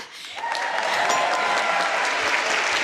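A theatre audience applauds a big band, a thick roar of clapping that swells in quickly and stays loud and steady, with a few faint cheers mixed in.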